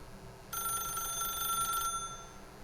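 A telephone rings in The Stanley Parable video game: one bright electronic ring burst lasting just over a second, starting abruptly after a quiet moment, then fading into low room tone.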